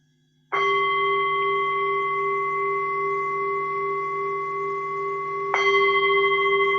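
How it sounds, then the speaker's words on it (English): A meditation bell rings out with a clear, sustained tone that hums on for several seconds, then is struck again and rings on. "I will just sound the bell"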